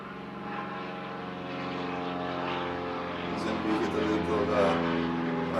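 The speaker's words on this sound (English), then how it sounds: "Oh yeah, there's a plane." A propeller airplane passes overhead near a military base, a steady droning engine hum that swells slightly louder toward the end, with people talking over it.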